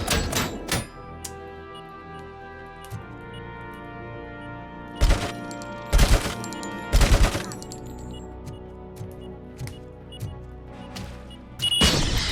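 Turrets in RoboCop: Rogue City fire loud, sharp bursts of gunfire: a few early shots, then several clustered volleys, and a final burst at the end over a humming game background.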